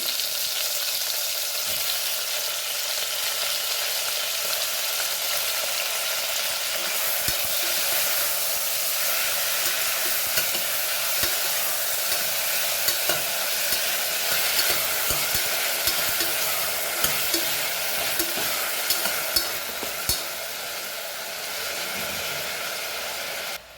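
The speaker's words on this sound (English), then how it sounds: "Now we will add our chilies and tomato and fry them nicely." Chilies and tomato frying in an open pan, a dense, continuous close sizzle with scattered stirring clatters throughout, no voices, for Goan stuffed brinjal with dry shrimp.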